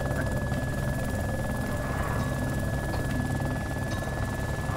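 A helicopter flies in the survival video game DayZ, a loud, continuous rotor drone with a steady buzzing hum and no breaks throughout.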